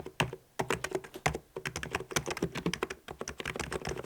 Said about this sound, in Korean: 보글보글한 무접점입니다